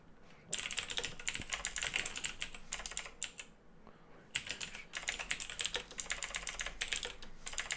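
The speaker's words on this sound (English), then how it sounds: "if I can type." Rapid typing on a computer keyboard, close, with dense clicking bursts separated by a short pause, no voices.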